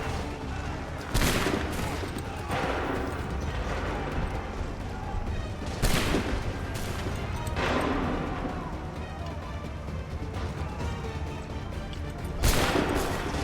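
Musket volleys from Assassin's Creed 3 crack out in several loud, broad bursts spaced a few seconds apart, with shouted orders and scattered battle noise between them.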